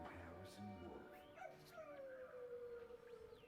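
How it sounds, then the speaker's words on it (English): A dog howls in the background inside the Two Point Hospital game, long wavering cries rising and falling under a continuous layer of talk. "Harrison, just howling in the background."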